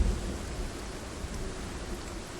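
Rain falling in the video game Project Zomboid, a faint, even hiss of steady rainfall with a soft low rumble underneath, continuing without pause and with no talking.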